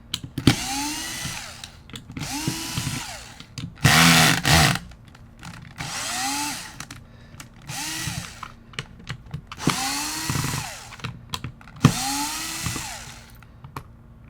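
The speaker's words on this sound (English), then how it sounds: "we're going to take out all the screws that hold the plastic body in place" Small power driver backing screws out of the plastic body of a Tippmann Gryphon paintball gun, in repeated short whirring bursts, each rising and falling in pitch, with quiet handling noises between them.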